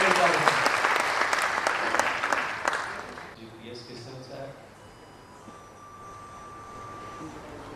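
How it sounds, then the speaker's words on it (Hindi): Audience at a social justice forum applauding, a dense burst of clapping for about three seconds that fades out, followed by quieter room sound with faint voices. "जोरदार ताली से उनका स्वागत करें"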